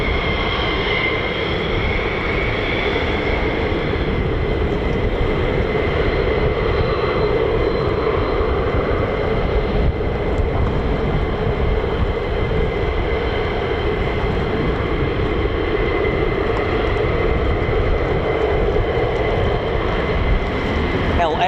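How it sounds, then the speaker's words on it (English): F-15 fighter's Pratt & Whitney F100-229 jet engine starting up again after hot-pit refueling at RAF Lakenheath, a steady loud roar with rising whine tones that holds throughout, near and continuous. "As the Pratt & Whitney F100-229 starts up from being shut down from having hot refueling"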